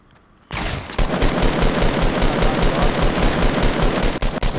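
Fortnite Battle Royale automatic weapon fire: after a quiet opening, a loud, steady burst of rapid, evenly spaced shots starts abruptly and keeps going almost to the end, with no talking.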